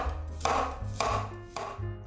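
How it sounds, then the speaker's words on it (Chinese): A kitchen knife slicing a peeled carrot on a cutting board, three crisp chops at an even pace, close and clear with no talk. "接着胡萝卜切片放在盘子里"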